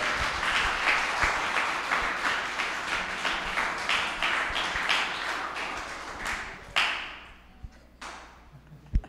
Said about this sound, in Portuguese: Aplaude Jesus pela vida dos dois